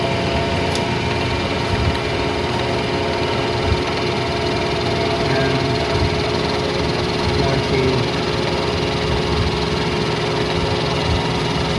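Continuous whir and grinding hum of a K&T milling machine cutting the outer diameter of a Spitfire axle adapter, an even, dense mechanical drone with a faint rhythmic chatter and no pauses.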